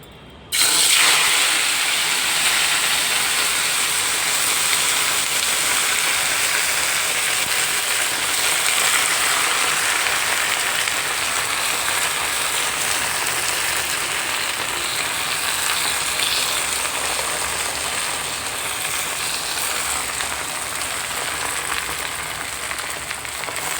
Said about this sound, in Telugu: ఇప్పుడు వేయించుకోవాలి.